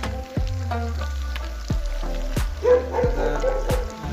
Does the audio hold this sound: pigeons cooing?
no